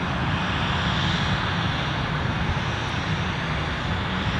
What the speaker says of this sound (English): There's that Loganair Embraer 145 that I was talking about